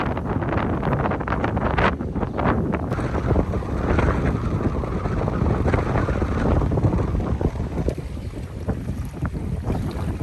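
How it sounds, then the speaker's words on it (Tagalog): Strong wind roars and buffets the microphone continuously at a campsite in Batangas during heavy rain, with gusts surging and easing. No voices are heard. "Lakas na yung hangin, pati pabugso-bugso na rin yung ulan."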